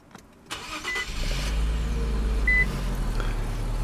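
A 2017 Infiniti Q60S with the 3.0t engine starts up: a brief starter crank after a quiet moment, then the engine catches and settles into a loud, steady idle.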